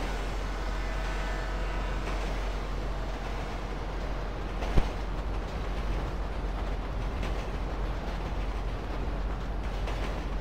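A train runs steadily in GTA 5 with a continuous dense rumble and rolling noise, loud and unbroken, with one sharp knock partway through.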